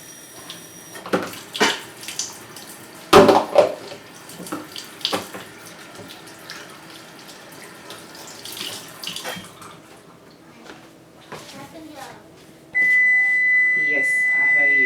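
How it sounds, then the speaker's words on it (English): Tap water running at a sink during hand washing in a home kitchen, a steady broadband splash with clattering and handling noises mixed in, ending in a louder steady flow. "let me wash my hands"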